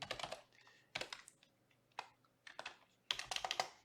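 Quick clusters of keystrokes on a computer keyboard as a recipe title is typed, close and crisp with short pauses between bursts.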